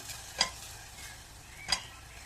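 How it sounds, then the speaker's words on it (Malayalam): Ginger and crushed cardamom stirred in a pan while making ginger cardamom tea: two short, close scraping strokes about a second apart over a soft, steady sizzle, with no talking. "അതിൻ്റെ ഒപ്പം ഇതുപോലെ ചതച്ച ഒരു ചെറിയ ഏലക്ക ഇട്ട് കൊടുക്കുക. ഇത് ജസ്റ്റ് ഒന്ന് ഇളക്കി കൊടുക്കുക."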